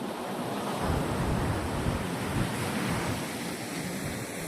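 Sea waves roll onto Goa beach under rain in a steady, loud wash of surf with wind rumbling against the microphone. No one speaks.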